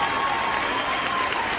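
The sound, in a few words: audience applause for Lagunilla Mi Barrio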